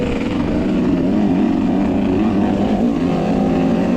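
A KTM 300 dirt bike engine lugs at low revs in too high a gear during a hare scramble race, a loud, steady, strained drone close to the rider with no voices.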